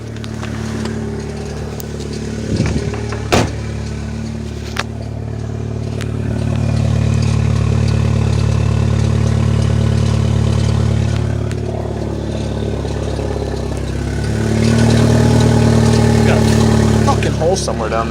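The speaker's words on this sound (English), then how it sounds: "the freaking startup on this thing is phenomenal. Fucking love the turbo spool." Saab 9-3 turbo engine running close by, a low steady idle with rising revs and a swelling surge near the end, somewhat loud, while a voice talks over it.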